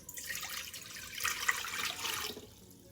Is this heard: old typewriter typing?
no